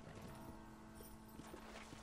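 A horse's hooves clop in a steady walking rhythm in the Red Dead Redemption video game, fairly faint and even under a low ambient game soundscape.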